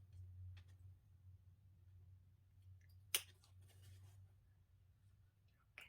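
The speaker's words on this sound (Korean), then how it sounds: "공간에 가위집을 내주시면 돼요" A pair of scissors snips into a folded jeans waistband: one sharp, close cut stands out against a low steady hum, followed by faint handling and a second small click at the end.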